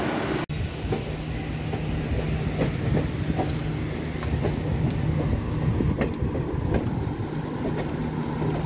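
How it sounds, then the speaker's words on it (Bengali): The New Jalpaiguri–Puri Vande Bharat express rushes past close by with a loud, continuous rumble and a rapid clickety-clack of wheels over rail joints, after a brief sharp knock near the start. "বন্দে ভারত যাচ্ছে, ওই যে নিউ জলপাইগুড়ি পুরী বন্দে ভারত যেটা"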